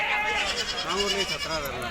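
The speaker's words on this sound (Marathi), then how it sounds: "ही मस्त शेळी तिसऱ्यांदा की दुसऱ्यांदा गाभण" A goat bleats several times up close at a goat market in Maharashtra, its wavering cries overlapping with a person talking nearby.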